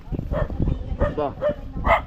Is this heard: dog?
yes